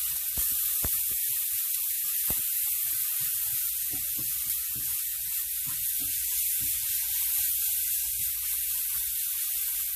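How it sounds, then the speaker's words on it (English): Seasoning vegetables sautéing in smoking-hot oil for Jamaican ackee and saltfish, a continuous bright hiss and sizzle with a few soft knocks and clatters underneath. "You're gonna add your seasoning. I'm gonna give it a little saute."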